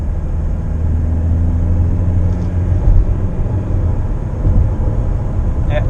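A Mitsubishi Outlander accelerates at full throttle, heard from inside as a steady, dense low engine and road rumble with a slowly rising tone, loud and continuous.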